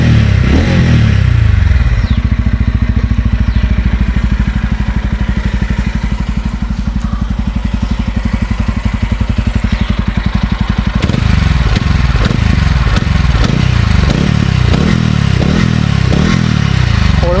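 A TVS Ronin motorcycle engine idles with a steady, smooth thrum, then the throttle is blipped repeatedly in quick, crisp revs, close and loud, with no talking.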